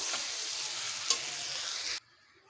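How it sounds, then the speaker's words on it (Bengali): Onions frying in a pan until reddish brown, a loud, steady close sizzle with a spoon stirring through it, cutting off abruptly after two seconds. "পেঁয়াজগুলোকে লাল লাল করে ভেজে নেব"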